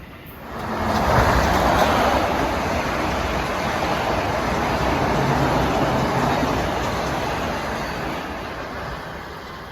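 Metro North train passing at Riverdale station, a broad rushing rumble that swells after the first second and holds steadily, fading slightly toward the end, with no voices.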